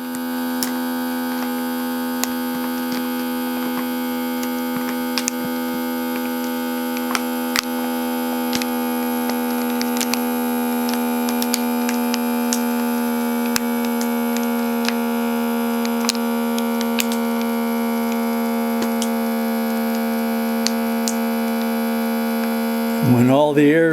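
Vacuum pump drawing air out of a bag holding a 3D printer filament spool, a steady humming whine with faint ticks that holds one pitch for a long stretch, then wavers near the end.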